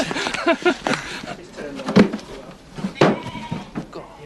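Sheep bleat in a farmyard, with several loud, close calls and two especially strong bleats about a second apart, over a busy background of other animal noises.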